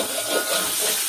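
Chicken sizzles in hot oil in a pan while cooking ayam varuval, a brief, loud, steady hiss and crackle close up with no speech.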